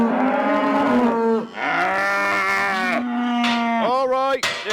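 Cattle on a farm moo loudly and close by as they are let in: several long, drawn-out moos follow one another, alone and without talk.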